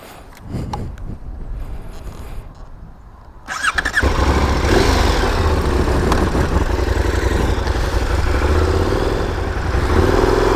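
A 2017 KTM 1090 Adventure motorcycle engine starts up with a loud roar and then idles steadily, a deep throaty rumble close by with no talking.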